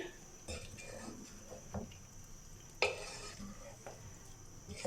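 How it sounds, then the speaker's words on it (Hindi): A spoon stirring spiced black pepper chicken in a kadai, soft sizzling underneath with scattered scrapes and a sharp metal clink partway through, fairly quiet with no talking. "इन सब स्पाइस को ऐड कर देंगे। बिस्मिल्लाहिर्रहमानिर्रहीम। और इसको अच्छे से मिक्स करके"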